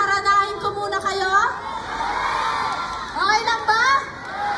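Crowd at a Barangay 310 campaign rally in District 3, Manila, cheering and shouting with children's voices prominent, loud and sustained, rising in bursts at the start and again near the end.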